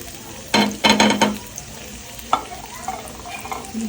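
Onions frying in oil and butter for Mumbai street-style pav bhaji, with bursts of stirring and scraping around the pan over a steady low sizzle, then a sharp clack and softer stirring.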